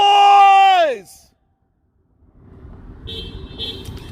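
Car horn at an outdoor rally, one long loud honk that fades out after a second, then a pause before quieter traffic rumble and further distant horn toots.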